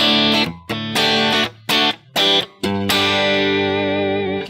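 Electric guitar played with a fairly clean tone and the effect switched off, several short ringing chords and notes followed by a longer sustained strummed chord that slowly decays.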